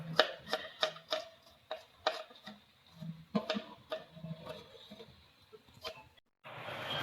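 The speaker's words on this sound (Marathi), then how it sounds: "हा उरलेला कांदा आम्ही आता कापून घेतोय" Knife chopping leftover onion finely on a cutting board while making misal pav, with a steady run of quick, crisp, close taps and no talking.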